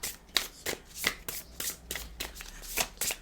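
Soft, repeated slaps and riffles as a deck of oracle cards is handled and shuffled by hand, with several cards dropping. The sounds come in quick, irregular bursts and are faint and close, with no speech.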